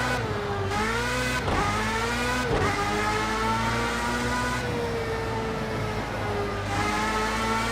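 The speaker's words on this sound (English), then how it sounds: "fifth gear, full throttle. Oh, you can hear the thing pulling." A race car engine at full throttle in Project CARS 2, its pitch climbing steadily through fifth gear with brief dips at each shift, loud and continuous with no talk over it.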